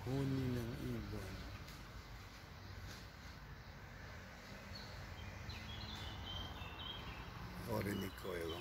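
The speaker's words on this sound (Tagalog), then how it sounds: "Naririnig mo ang mga huni ng ibon." Faint birds chirp in the distance over outdoor ambience, with people talking briefly at the start and again near the end.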